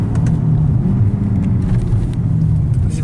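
A Mercedes C63 AMG engine pulls under acceleration, a loud deep continuous rumble heard from inside the car, steady for a few seconds.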